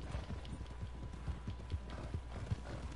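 Rapid hoofbeats of a galloping horse in Red Dead Redemption 2, a steady clip-clop rhythm under a low background hum, moderately loud and close.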